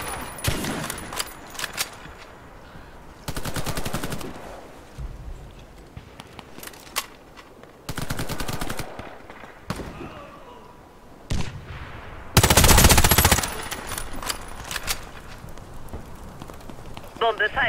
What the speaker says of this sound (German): Und da hinten schießen die auch.